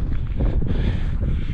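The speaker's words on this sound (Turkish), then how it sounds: "Şöyle bakın çok rüzgar var." Strong wind gusts across open hilly land, buffeting the microphone in a loud, low, continuous roar for a brief moment with no talk.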